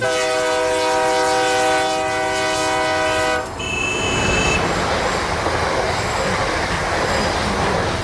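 A train horn sounds a long, steady, loud blast, then cuts to the rumble and rattle of rolling train wagons on the rails, with a brief high squeal. It is a sound effect in a Bengali audio story and plays without talk.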